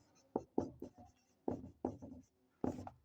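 Chalk or marker strokes on a board during a Class 10 chemistry lesson on chemical equations, coming in short scratchy bursts with pauses between them, close and fairly quiet.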